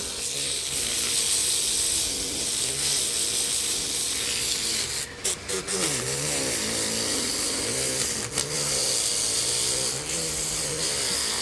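A Dremel rotary tool grinds into olive wood in a loud, steady high-pitched whine, its burr briefly catching and chattering a few times midway.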